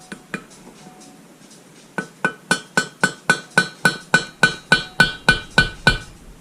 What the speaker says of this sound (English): he used a hammer to tap it in